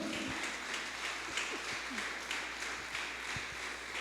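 A church congregation claps along in a steady, brisk rhythm, a dense mid-level patter that continues without pause throughout.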